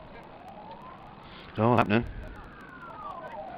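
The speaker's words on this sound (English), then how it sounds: "Here comes the ambulance for him anyway, that's going quick." An ambulance siren passes near a cricket ground during a Durham v Derbyshire county match, its wail sweeping faintly up and down behind the crowd ambience while a commentator speaks briefly.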